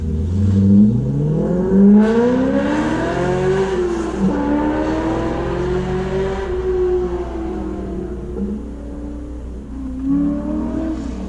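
A Subaru WRX STi engine revs hard on an autocross course and climbs through gears, pitch rising and falling repeatedly as it accelerates away, loud and close.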